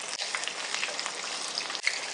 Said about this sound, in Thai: ก็เดี๋ยวเราจะทอดจนสุกดีเลยค่ะ